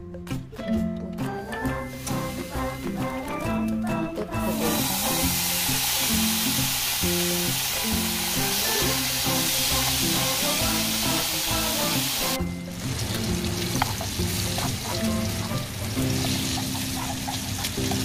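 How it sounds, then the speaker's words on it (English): Bacon sizzles and spatters steadily in a hot pan as it crisps for carbonara, a loud continuous frying hiss with light music underneath. "The bacon gets brownish and you feel it's crisp"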